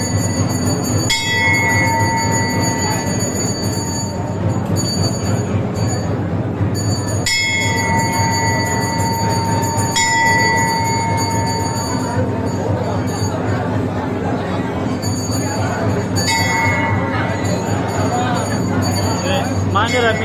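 A metal temple bell at a midnight festival in India is struck by passers-by. Loud clangs ring out about four times at uneven intervals, each with a lingering hum, over a busy crowd with people talking.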